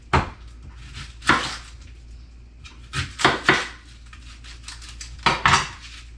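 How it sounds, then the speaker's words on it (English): An onion chopped with a knife on a board in a home kitchen, a few short bursts of sharp clicking knife strikes separated by quieter pauses, close and fairly faint. "Gonna chop up the onion"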